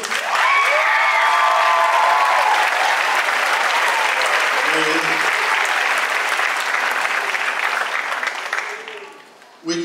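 Sustained applause from a high school Christmas concert audience for the percussion instructor, loud and dense throughout with some cheering, a voice speaking over the early part and the clapping tapering off near the end.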